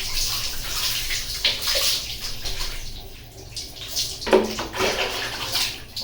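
Lukewarm water splashes and pours over a dog being bathed in a tub, a steady close wash of sloshing and trickling with a few louder splashes and no talk.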